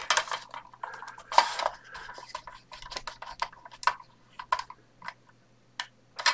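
Small IP screws being driven into the metal parts of an Ecto-1 model car kit, with irregular light clicks, taps and scrapes of a screwdriver against the pieces, close by and with no talking.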